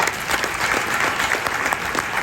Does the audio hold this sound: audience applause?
yes